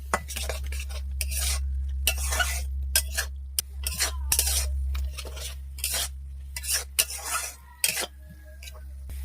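Spatula stirring turmeric and chili powder with salt in a pan, heard as repeated scraping strokes in close, uneven bursts over a steady low hum, with no talking.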